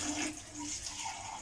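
Water poured into a cooking pot of mutton that has been fried in spices, giving a steady, continuous splashing pour for just over a second with no talk.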